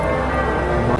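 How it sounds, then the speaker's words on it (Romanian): Church bells at the Duomo in Florence ring out loud and sustained during a saint's feast-day service, a dense wash of overlapping tolls with no pause. "la Duomo bat clopotele"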